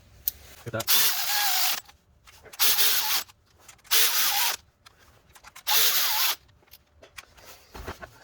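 A ratchet tightens the ignition coil bolts on a 2022 Porsche Macan 2.0L, giving four close, rasping bursts of clicking about a second long, with quieter handling noises between them.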